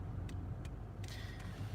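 A car being driven at night, heard from inside as a steady low engine and road rumble with a few faint high ticking clicks, no talk.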